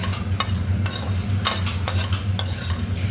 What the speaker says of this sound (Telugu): వేసి బాగా వేయించాలి.